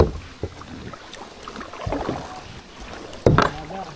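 Kayak moving on water along the Konkan coast, with sporadic paddle splashes and knocks, wind rustle and a sharper splash near the end, while a person talks in between.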